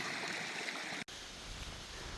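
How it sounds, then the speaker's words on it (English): A steady, close rush of creek water flowing along a hiking trail toward Lee Falls, a continuous broadband wash that cuts out for an instant partway through before carrying on unchanged. "Well, I made it across the creek"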